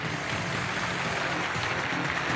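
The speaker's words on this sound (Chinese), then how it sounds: "掌声有请这一对" A studio audience on a dating and relationship TV show claps steadily, a dense, even wash of applause heard from a moderate distance with no break.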